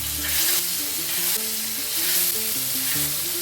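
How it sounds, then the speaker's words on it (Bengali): Chicken pieces for malai tikka hit hot oil on a tawa, giving a loud, dense, continuous sizzle throughout, with faint melodic tones running underneath. "তেল গরম হয়ে এলে আমি চিকেনের পিসগুলো দিয়ে দিলাম।"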